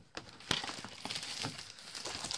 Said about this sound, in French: excusez-moi pour le bruit du papier